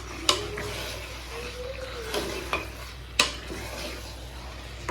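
About a kilogram of mutton fries in thick masala gravy while being stirred, with soft steady sizzling under a few sharp metal scrapes and clinks from the spoon against the pot.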